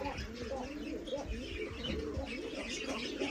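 Kokka pigeons coo in a steady, overlapping chorus, low rounded calls repeating continuously at close range with occasional chirps and faint movement underneath.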